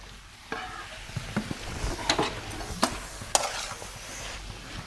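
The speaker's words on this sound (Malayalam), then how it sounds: "എന്നാ അത് ചൂടാക്കട്ടെ ദോശമാവ്" Dosa batter warming on a hot pan gives a soft steady sizzle, broken by several sharp clinks and scrapes of a utensil against the metal.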